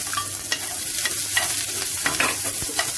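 Onion and green chilli frying in hot oil sizzle loudly and up close, with quick scraping stirs at irregular intervals cutting through the steady hiss.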